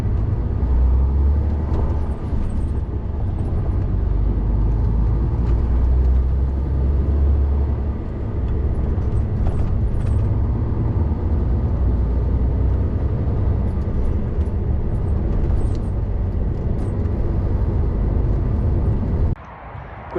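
A lorry loaded with 22 tonnes of jam pulls out onto the road, its diesel engine rumbling deep and loud from the cab throughout, steady with slight rises, cutting off abruptly at the end.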